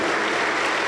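A congregation at a Pentecostal church service in Huancayo claps together, producing dense, steady, loud applause that fills the whole moment without a break.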